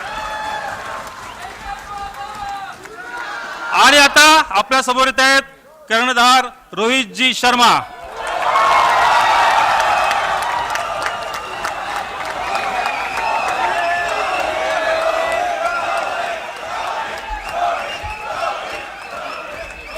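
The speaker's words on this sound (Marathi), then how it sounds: "टाळ्या." Team India is honoured at Vidhan Bhavan. An announcer's amplified voice introduces the captain, then a crowd breaks into sustained applause and cheering that fills the hall and continues at full strength for the rest of the clip.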